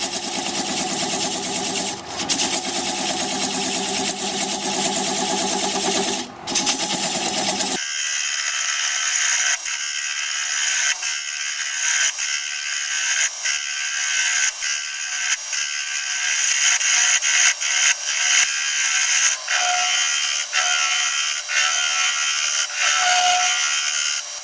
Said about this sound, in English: I'm going to use a 1/2 inch bowl gouge and commence removing that tenon.